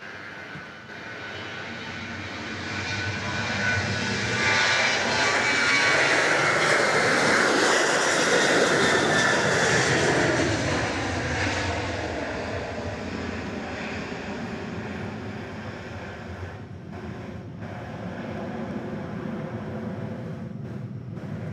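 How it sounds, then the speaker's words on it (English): A Boeing 737-800 jet in special livery takes off from Dallas Love Field, a loud roaring engine rumble that swells to a peak and slowly fades as the plane climbs away. "Flight 1293 is off to San Jose. 737-800."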